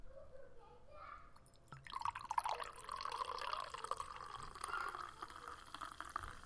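An ambrosia drink poured into a cup, building to a steady close trickle and fizzy bubbling after a quieter start, with a low murmur in the background.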